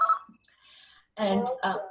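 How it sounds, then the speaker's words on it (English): A landline telephone left poorly off the hook gives short electronic ringing bursts indoors, heard faintly at first before someone speaks over the end. "I took the phone off the hook, but I didn't do a good job. You hear the ringing?"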